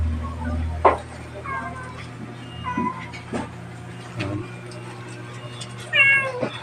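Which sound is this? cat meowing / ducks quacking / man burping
cat meowing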